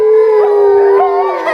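Sled dogs from a racing dog team howl together in a loud, sustained chorus, several overlapping voices rising and bending in pitch close by.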